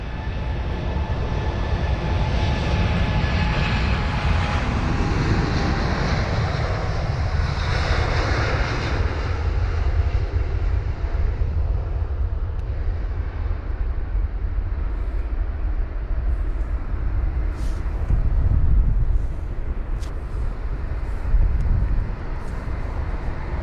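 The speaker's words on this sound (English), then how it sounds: "the 787, this is the 9 Dreamliner heading to Shanghai" A Boeing 787-9 Dreamliner departs runway 27 right at London Heathrow, its jet engine roar loud and broad at the start, then slowly fading into a steady distant rumble as the aircraft climbs away.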